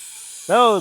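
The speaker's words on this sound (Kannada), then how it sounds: "ಫಸ್ಟ್ ವಿಸಿಲ್ ಬಂತಪ್ಪ. ಇನ್ನೂ 2 ವಿಸಿಲ್ ಬರಬೇಕು." A stovetop pressure cooker cooking sweet potato lets out a single loud rising whistle with hissing steam, starting after a faint steady background hiss and lasting under half a second.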